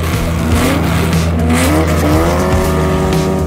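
A 1956 Porsche 550A Spider race car with a 1.5-liter, 135-horsepower engine drives past, its engine note rising and falling through gear changes with loud, continuous revving and a brief tire squeal.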